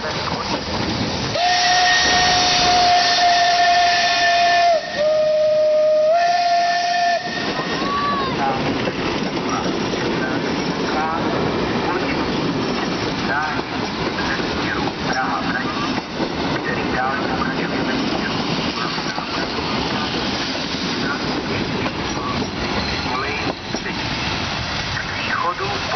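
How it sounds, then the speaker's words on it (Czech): The whistle of Czech steam locomotive 464.102 sounds a long piercing tone, then continuous hissing steam and chuffing as the train pulls away from Beroun, under a distant voice. "Vlak je připraven k odjezdu."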